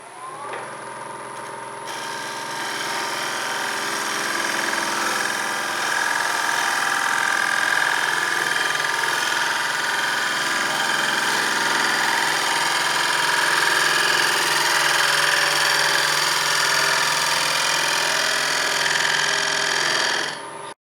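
Wood lathe spinning a bowl blank while a freshly ground gouge shears the wood high on the edge, a continuous loud motor hum with a bright, steady cutting hiss, alone without talk.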